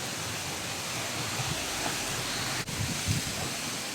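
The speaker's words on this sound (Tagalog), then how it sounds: "Grabe, sobrang lakas ng hangin." Strong wind roars against the microphone in a constant broadband rush, with gusty low buffeting and a brief dropout partway through.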